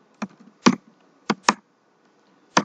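Five separate keystrokes click on a computer keyboard, close and crisp, with uneven pauses between them and no talking.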